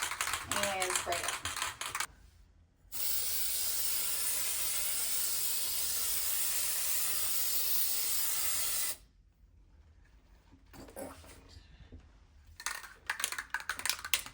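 Rattling and clicking as a can of spray frost is shaken and handled, then a steady aerosol hiss sprays for about six seconds before more handling noise.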